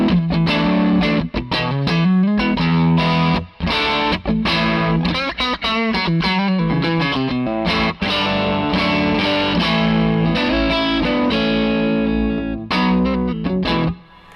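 Thick, overdriven electric guitar through an Argenziano Effetti Voodoo '67 pedal and a low-watt amp, with gritty, compressed breakup, strummed chords and riffs ringing steadily and loud for the whole stretch, with only brief pauses.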